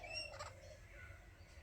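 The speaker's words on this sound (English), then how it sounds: "So this king parrot's just come to my door." A young male Australian king parrot at a house door gives a few faint, high, scratchy calls in quick succession, then falls mostly quiet against low background hum.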